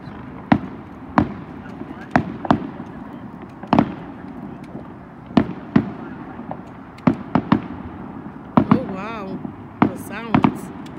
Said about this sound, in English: Sounds. The fireworks.